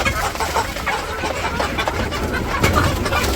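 A village flock of chickens clucks and murmurs softly in overlapping calls, close by against a busy background noise.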